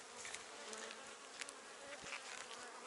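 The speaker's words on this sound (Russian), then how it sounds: "Вот пчелка выходит." Honeybees buzzing at the entrance of a hive during colony splitting, a steady, moderately faint drone of many wings with occasional closer passes.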